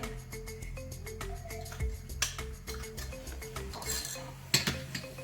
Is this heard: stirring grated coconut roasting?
yes